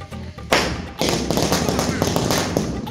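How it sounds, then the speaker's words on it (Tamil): A Diwali firecracker goes off outdoors during a family celebration, a sudden loud burst followed by a dense crackling spray that keeps sputtering to the end. "இப்போ வந்து நம்ம வந்து வெடி வெடிக்க போறோம்"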